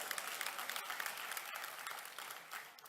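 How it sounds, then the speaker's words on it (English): Graduates at a fall convocation ceremony clap together in a brief, faint burst of applause that stays steady and tapers slightly toward the end. "do you want to clap?"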